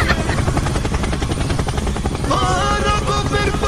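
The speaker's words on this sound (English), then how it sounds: "Helicopter! Helicopter!" A helicopter in the video game Dude Theft Wars, its rotor chopping in a fast, steady pulse, loud and close throughout, with brief game effects layered over it near the end.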